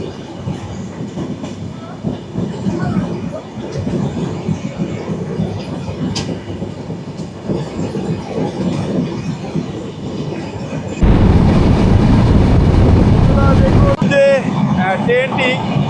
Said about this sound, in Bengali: ট্রেনটি স্পিড বাড়িয়ে দেওয়া হয়েছে।